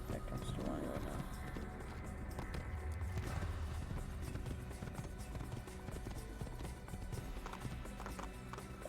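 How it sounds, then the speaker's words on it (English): Horse hooves clip-clop in a quick, steady rhythm in the video game Assassin's Creed, fairly quiet, over a busy low background. "I will name this horse Max."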